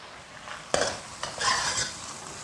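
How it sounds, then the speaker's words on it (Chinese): Ginger, scallion, garlic, pickled vegetables and Sichuan bean paste hit hot lard with Sichuan peppercorns in a wok, giving a sharp sizzle followed by scraping stir strokes and a soft metal clatter, fairly quiet and unaccompanied by talk. "炝香后下姜葱蒜和泡菜，四川豆瓣儿"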